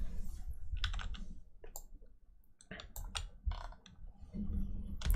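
A computer mouse clicks repeatedly during a session of the management game Lord of Dwarves, sharp close clicks in uneven bursts with short quiet gaps and no talking.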